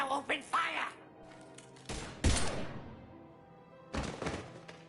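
Bursts of weapon fire in a firefight in Mass Effect 3, with sharp loud blasts separated by gaps and a voice speaking over the opening moments.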